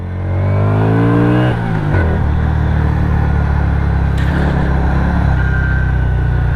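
An SSR Buccaneer 250 V-twin motorcycle rumbles loudly and steadily while being ridden, its engine pitch rising through acceleration before settling into a sustained cruising drone, close and continuous.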